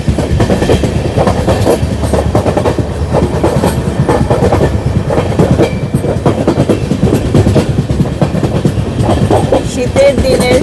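A train rolls along the rails with a loud, rhythmic clickety-clack and constant rumble, heard close from on board, steady throughout without voices.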